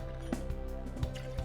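Borghetti espresso liqueur pours into a metal cocktail shaker tin, a quiet short trickle broken by a few soft drips and splashes.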